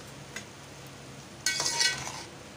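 Chicken masala is stirred into onions and tomatoes frying in a pan, with a light scrape and then a louder burst of sizzling and spoon scraping that fades over about a second.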